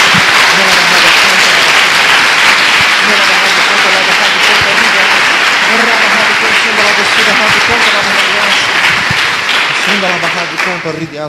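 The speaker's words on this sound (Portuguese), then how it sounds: "Dê uma salva de palmas ao Senhor" Church congregation giving a loud, sustained ovation to the Lord, dense clapping mixed with voices and shouts of praise, full and close throughout before easing slightly at the end.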